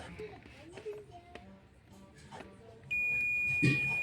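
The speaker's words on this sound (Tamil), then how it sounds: "இப்போ பீப் சவுண்டு வரும் பாருங்கள்" Faint talk and background murmur, then a steady high electronic indicator beep from a Suzuki Baleno starts partway through and holds to the end.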